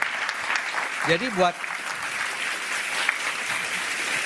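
Audience applause in a studio discussion, a steady wash of clapping throughout, with a brief spoken word from a man partway through.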